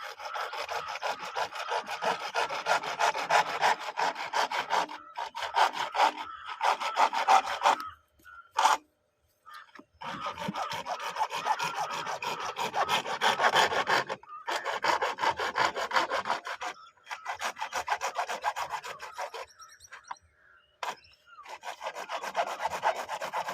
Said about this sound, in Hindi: तो इसको डायरेक्ट फ्रेम से बाहर निकाल के आरी पत्ती के द्वारा ही काटा जाएगा।